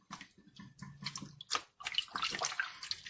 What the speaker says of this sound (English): I like to use vinegar to clean my meat, fruits, veggies, all of that good stuff.